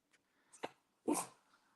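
A puppy gives a few short, faint whimpers and yips, with a brief thin squeak followed by a louder whiny cry, close by in a quiet room.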